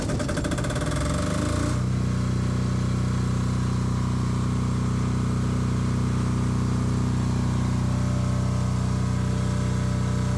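A PHILKING 10kVA enclosed diesel generator starts with a brief rattling crank, then settles into a loud, steady, droning hum that runs without break.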